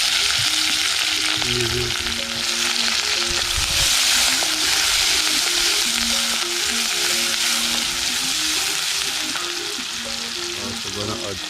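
Okra and chicken sauté in a pan with a loud, continuous sizzle and crackle of frying oil, while a voice speaks briefly over it.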